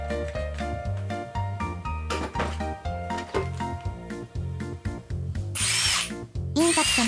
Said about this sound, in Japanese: インパクトの方は普通に回っとるな